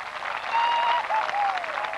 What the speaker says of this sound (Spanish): Entonces reiteramos el aplauso para los asadores y para los mozos.